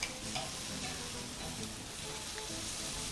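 Beef steak searing for teppanyaki on a hot grill gives a steady, close sizzle and crackle, unbroken throughout, with no talking.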